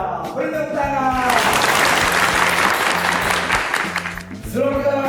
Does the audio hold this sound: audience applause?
yes